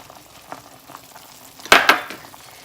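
Chicken noodle soup with fresh parsley is stirred in a pot, with a quiet simmer and a couple of close, sharp scraping clatters from the spoon near the middle.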